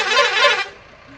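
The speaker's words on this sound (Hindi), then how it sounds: "हमारी बस हॉर्न दे रही है" A loud, brief blast from a sleeper bus horn on a Delhi to Vaishno Devi journey, with two quick peaks, cutting off after about half a second into quieter background.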